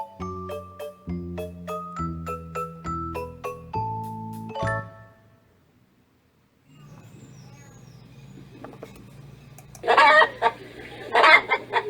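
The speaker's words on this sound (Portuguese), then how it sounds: "Galinha, em inglês, é chicken." A domestic chicken clucks in a few loud, close bursts near the end, after a run of bright chime-like tones and a quiet stretch with low background noise.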